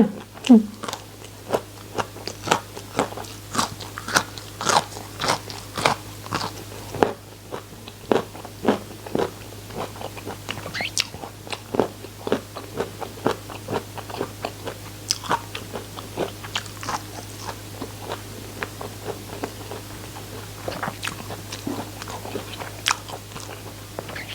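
Crispy batter-fried oyster mushrooms coated in egg and breadcrumbs are bitten and chewed close to the mic, with loud rhythmic crunches repeating steadily throughout under a low constant hum.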